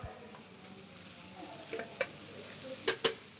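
Zest being stirred into Iranian jeweled rice in a pan: soft scraping stir strokes over a low sizzle, with a few sharper utensil taps near the end, fairly quiet and with no talk.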